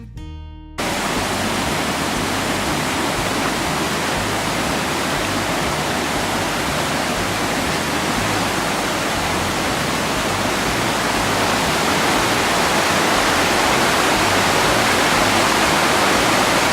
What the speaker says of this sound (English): This is Tower Falls Creek.